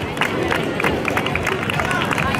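Crowd claps and cheers for young girls' alevín category runners finishing a one-mile street race in Gijón, a dense steady patter of applause mixed with crowd babble throughout.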